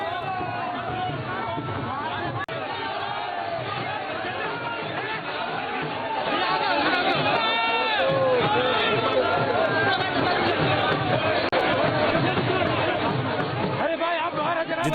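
A large crowd gathers at Amit Shah's rally in Deoband, a dense, continuous hubbub of many voices and chatter that swells louder midway and holds steady.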